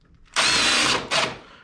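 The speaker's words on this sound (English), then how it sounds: "grab my trusty drill and go ahead and start putting some screws in" A power drill drives screws into model railroad benchwork, two close, loud whirring bursts, the first about three quarters of a second long and the second shorter.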